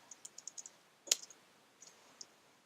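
Someone types a GDB command on a computer keyboard: faint, close key clicks in a quick run, then a louder cluster and a few scattered taps, with no talk.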